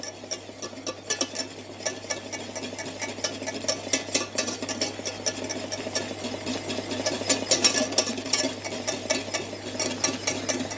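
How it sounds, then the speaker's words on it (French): Fruit confit stirred in a saucepan at a full boil, a continuous scraping and clinking of the spoon against the pan with bubbling underneath, close and steady and with no talking. "Je mélange pour ne pas que ça accroche"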